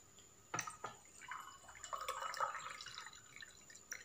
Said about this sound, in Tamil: இப்போ நான் வந்து வாட்டர் சேர்த்துக்க